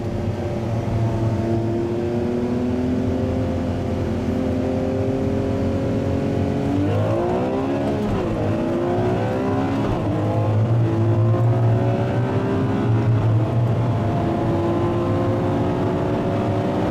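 Two high-performance cars, a tuned Porsche GT2 and a Ferrari 599 GTB, roaring at full throttle in a race, a loud, sustained engine drone that rises in pitch with each gear and dips sharply during one shift midway.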